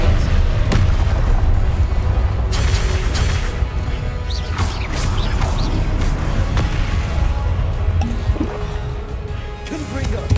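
Repeated Confringo spell blasts in Hogwarts Legacy, booming explosions that rumble continuously through combat, with several sharp bursts standing out above a thick low roar.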